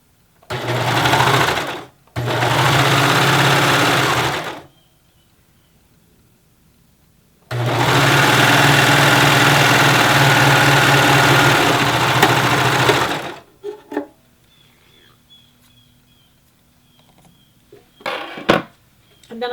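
A serger overlock machine stitches the sleeve hem of a top in three loud, steady bursts, two short and one longer, each stopping abruptly, followed by light handling clatter.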